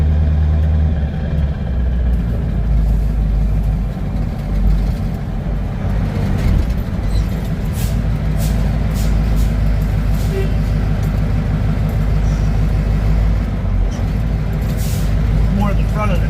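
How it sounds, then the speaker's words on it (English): A medium-duty truck powered by a CAT 3208T turbo diesel drives along with a loud, steady engine drone, while a faint turbo whistle winds down beneath it and brief air-brake-like hisses break through near the end. "Hear that turbo whistling down more too."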